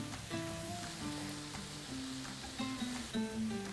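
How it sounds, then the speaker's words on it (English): Leeks simmer and sizzle gently in a pan for a frittata, a soft continuous crackle close by with some clinking and faint tonal background sounds, and nobody speaking. "And you let the leeks simmer down."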